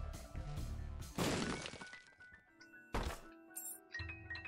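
Bombs blowing up in The Binding of Isaac: Rebirth, a few sharp crashing bursts with shattering, crunchy tails separated by short gaps amid game sounds and music, loud and close.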